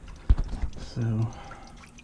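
Coolant draining from a 2014 VW Tiguan, with a cluster of close splashing drips and then a brief steady gurgling pour that fades out.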